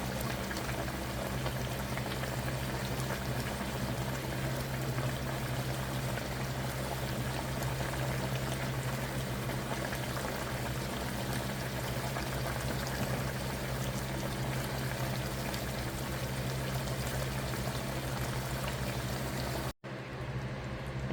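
An eggplant and hilsa fish curry bubbles in a pot with a constant, even simmering hiss that stops abruptly at the end.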